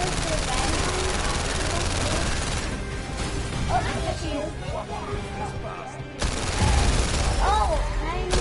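Rapid bursts of gunfire crackle in the VR shooting game VR Worlds Scavenger, loud and dense at first, thinning out midway, then a heavy burst returns near the end while a voice speaks over the action.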